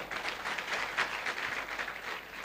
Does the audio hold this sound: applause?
yes